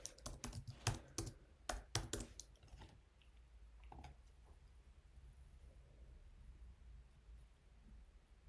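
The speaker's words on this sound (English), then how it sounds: "But in this case, I'm going to type it." Rapid clicking on a computer keyboard while a password is typed at a login screen. About three seconds of close, crisp keystrokes are followed by a few isolated taps and then near silence.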